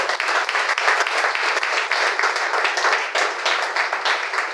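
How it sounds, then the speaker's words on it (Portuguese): Steady, dense applause from an audience at a missionary conference, fairly loud and continuous with slight swells, no voices standing out. "Vamos bater uma salva de palmas."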